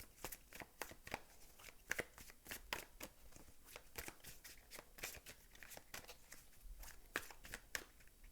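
Tarot cards are shuffled in a rapid, continuous run of crisp riffling and slapping clicks, close and fairly quiet, with no talk.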